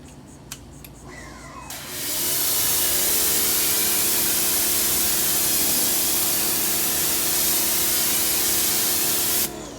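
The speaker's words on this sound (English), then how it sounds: "So I'm just gonna rinse it off." Water spray rinses a car's sealed surface after a wash, a loud, steady close hiss that starts after about two seconds of quieter handling noises and runs nearly to the end.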